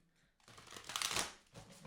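Tarot cards are shuffled for a reading in a single brief, soft riffle that swells and fades, with a faint flutter following it.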